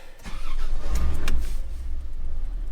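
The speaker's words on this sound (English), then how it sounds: "So turn on the truck." A Toyota truck engine cranks and starts, then settles into a low steady rumble, close by with no talking.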